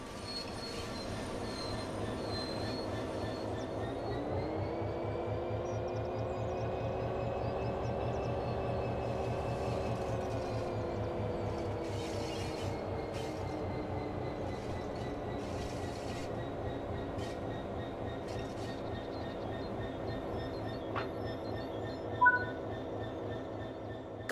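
Locomotive in Train Sim World slowing toward wagons: a steady rail rumble with rhythmic wheel clatter, a drawn-out pitch drift and faint squealing as it eases in, then a brief clunk near the end.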